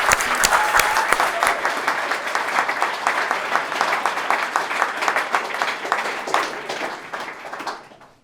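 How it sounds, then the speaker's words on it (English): Wedding guests clap together in a dense, sustained burst of applause that holds steady for several seconds before tapering off at the end. "I think that deserves a clap."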